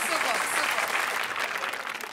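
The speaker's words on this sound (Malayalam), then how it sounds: "അതിനൊരു കൈയടി ആദ്യം കൊടുക്കണം നമ്മൾ" Audience applause at a comedy stage show, a dense, steady burst of clapping from a crowd that fades slightly toward the end.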